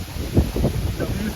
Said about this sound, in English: This is straight line winds right here.